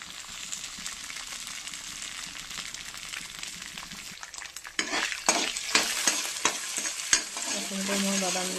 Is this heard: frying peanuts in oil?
yes